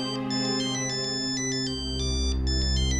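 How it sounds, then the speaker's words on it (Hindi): A melodic phone ringtone plays steadily, a repeating electronic tune with bright bell-like tones over a low hum, fairly loud and close. "ये फोन करके कौन डिस्टर्ब कर रहा है?"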